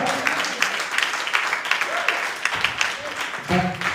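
Church congregation applauding and acclaiming during a French-language sermon, a dense wash of clapping with scattered voices and shouts throughout, loud and continuous for the whole moment.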